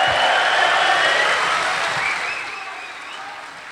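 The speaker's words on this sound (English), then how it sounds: "I want a round of applause" A large crowd at a boxing press conference for Tony Bellew and David Haye applauds loudly and densely, with scattered cheers mixed in, and the sound slowly fades toward the end.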